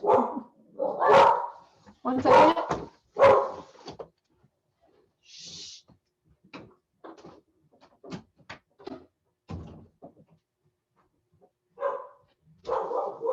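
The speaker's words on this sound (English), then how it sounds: "My dog is barking." A dog barks in a home in several sharp bursts near the start, then fainter intermittent barks and knocks follow, with a person briefly speaking.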